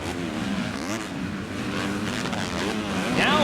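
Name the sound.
motocross racing bikes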